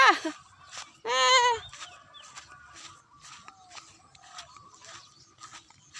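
Chickens cluck repeatedly on a farm at sunrise, with one loud, harmonic squawk near the start followed by steady, moderately close clucks and calls.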